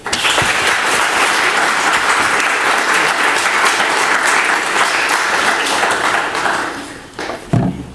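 An audience breaks into sustained applause to welcome author Kelly Link to a reading at Trinity College, a dense, steady clapping from many hands that fades out near the end.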